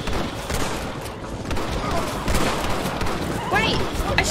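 A Red Dead Redemption shootout crackles with rapid, overlapping gunshots and occasional heavier booms, kept up steadily for several seconds while voices shout over the fire.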